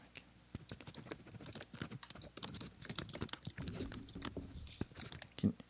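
A pen scratching on paper close to the microphone, a quick irregular run of small scrapes and ticks with no talking.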